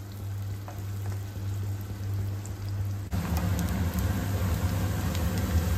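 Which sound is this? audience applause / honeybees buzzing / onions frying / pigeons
onions frying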